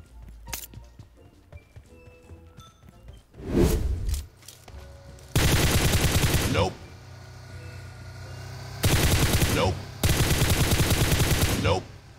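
AK rifle gunfire in the PUBG Mobile video game, with several loud bursts of automatic fire in separate clusters, sharp and close, over quieter ambient game sound.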